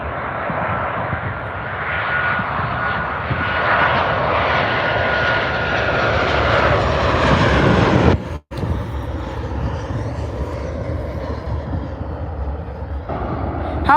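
A Boeing 737-800 jet passes near Dallas/Fort Worth airport with a loud, sustained engine roar. The sound swells and shifts as the plane goes by, then eases into a quieter rumble after a brief dropout, with no talk.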